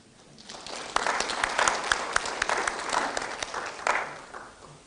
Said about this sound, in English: We need to clap for Gen Z.